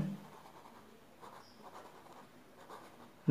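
Chalk or marker scratches across a classroom board as an English sentence is written out, faint dry strokes in short bursts with quiet pauses between, no talking over them.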